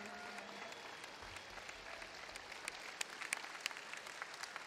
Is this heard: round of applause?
yes